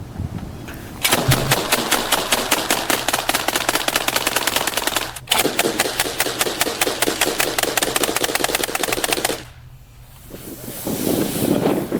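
Two AA-12 automatic shotguns fire in long, rapid, loud bursts, with a brief pause partway through and a quieter stretch near the end.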